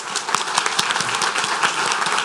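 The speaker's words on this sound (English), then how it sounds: "ask all of our citizens, members of the Parish Council, to acknowledge with a round of applause at this time" A round of applause from citizens and members at a parish council meeting, steady dense clapping from a crowd filling the room with a few sharper individual claps standing out.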